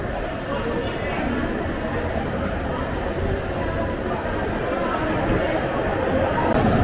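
The Bandra–Madgaon Express, train no. 10115, rumbles out at its opening ceremony with a steady, heavy rolling roar that builds slightly toward the end, with voices in the background.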